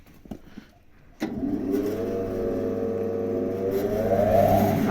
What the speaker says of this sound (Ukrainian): Вмикайте, будь ласка, дровокол.